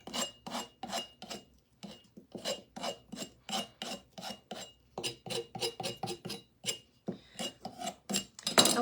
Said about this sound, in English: we can use our scraper tool just to kind of scrape it down a little bit.